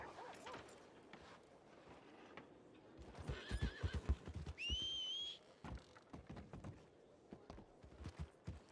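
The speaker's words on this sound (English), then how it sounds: "He got a pissed off horse." A horse in a Western game setting lets out a sharp, agitated whinny midway, rising high and wavering, amid clip-clopping hooves and scattered background noise.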